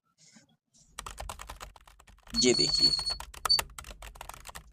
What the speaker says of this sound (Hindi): कीबोर्ड साउंड इफेक्ट्स, तो ये हमारे आगे कीबोर्ड साउंड इफेक्ट।